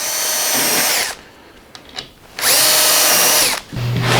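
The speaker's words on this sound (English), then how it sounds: "Keep the drill straight." A Festool power drill whines loudly in two long bursts drilling through wood for a bench, with a short quieter pause between them and a brief restart at the end.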